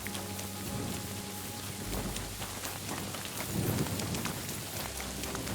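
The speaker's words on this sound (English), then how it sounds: "Bloody rain." Steady rain falls throughout a scene in the video game Kingdom Come: Deliverance II, a dense continuous hiss with a low rumble swelling briefly near the middle, heard alone without talk.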